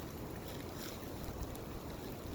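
Wind gusts through wet woods, a steady broadband roar and hiss of moving air and rustle with no voices, filling the whole stretch evenly at moderate loudness.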